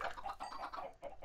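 Minecraft chickens cluck in a short, soft run of repeated low clucks, rhythmic and close, with no talk over them.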